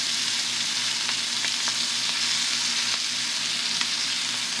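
Abalone steaks sizzle loudly in a hot pan, a dense continuous fry with occasional sharper pops and crackles, steady and close with no talking over it.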